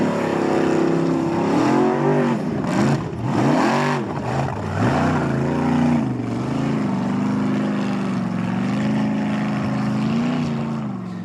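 An Icelandic Formula Offroad car launches its run at the Akureyri round with a loud, close engine roar, revs swooping up and down through gear changes before settling into a sustained high drone.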